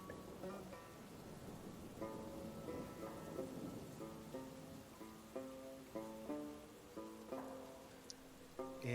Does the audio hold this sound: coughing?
no